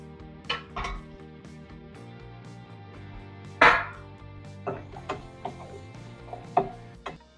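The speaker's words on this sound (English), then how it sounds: "Now I'm going to add the green chilies, the garlic and the ginger." Green chilies, garlic and ginger tipped into a cooking pan for an Indian crab masala, with a series of sharp metallic clanks and scrapes of utensil on pan, one louder strike midway, over a low steady sizzle.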